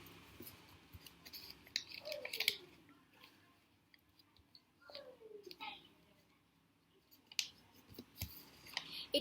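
Paper being folded for a butterfly craft gives soft crinkles and sharp creasing swipes in a few bursts, close and quiet, with a voice speaking faintly in between.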